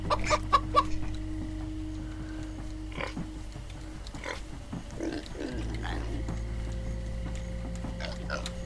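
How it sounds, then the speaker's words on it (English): Minecraft: Story Mode chicken clucks pop up over a steady electronic hum and a low drone, with a few grunting animal noises mixed in. "Zombie-sized chickens."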